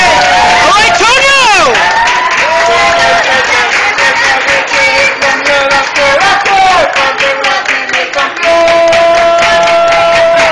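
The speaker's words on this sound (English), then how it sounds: "Antonio, who is turning 7 today, please give a round of applause." Restaurant guests at a child's seventh birthday dinner clap and cheer loudly, with whoops and excited voices over continuous applause and crowd chatter throughout.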